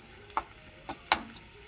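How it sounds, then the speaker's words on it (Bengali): Ingredients for radish greens stir-fry in a kadai, a faint oily sizzle broken by three quick scraping clinks of a spatula against the pan, close by and with no talk. "এই যে কড়াইয়ের মধ্যে এবার দিয়ে দেবো, কিছুক্ষণ নাড়াচাড়া করে ভেজে নেব।"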